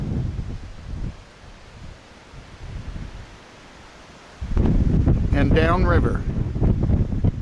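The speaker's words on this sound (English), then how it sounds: "Wind blew like crazy last night, and it's still blowing, as you can probably hear it." Strong wind blowing along the Yellowstone River, a steady rushing roar with gusty microphone buffeting that grows louder partway through, while someone speaks briefly over it.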